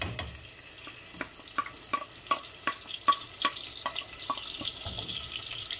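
Small chopped onion pieces fry in melted ghee, producing a steady soft sizzle dotted with irregular crackles and pops.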